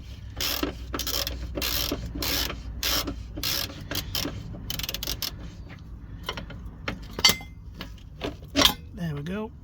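A spanner works on an engine mount bolt of a Ford Transit Connect, with a rapid run of close metallic ratcheting clicks, then sparser clanks and taps of tool against metal.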